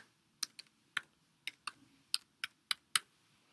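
Someone types an ADB reboot command on a Mac keyboard, producing about ten crisp, separate key clicks in an uneven rhythm, close and clear against near silence, with the final louder press hitting Enter.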